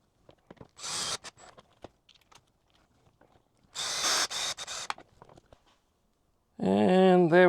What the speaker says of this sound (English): Just drill on the underside.